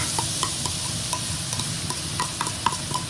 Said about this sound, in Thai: ตั้งกระทะน้ำมันพอร้อน ใส่กระเทียมสับลงไปค่ะ